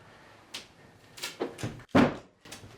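Thumps and knocks are heard as a wood subfloor panel is lowered onto the floor by one person, a few separate hollow knocks that build to a firmer thud near the end.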